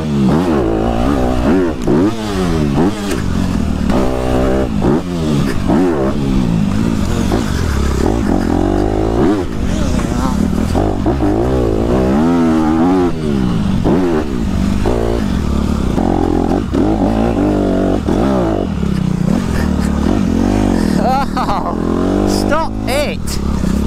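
An enduro motorcycle revs hard through an extreme endurocross off-road section, its engine rising and falling in rapid throttle bursts, loud and close throughout, with a rider talking over it.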